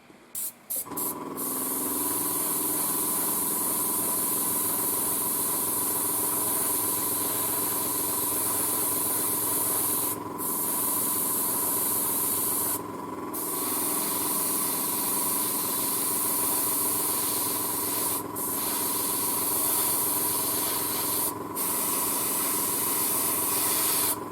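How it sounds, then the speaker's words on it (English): An airbrush sprays thinned Tamiya acrylic paint in a steady, close, continuous hiss over a constant compressor hum, broken by a few short pauses and nothing spoken. "So let's go just with the airbrush where we need to put a little more."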